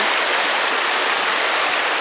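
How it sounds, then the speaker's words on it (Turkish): A clean mountain stream flowing in a green upland valley in Trabzon, a steady, close, full rushing wash of water running continuously with no voices over it. "Dereye geldik. Deredeyiz gördüğünüz gibi."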